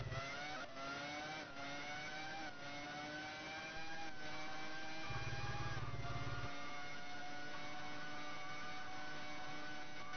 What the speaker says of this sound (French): Vous entendez le crissement des gommes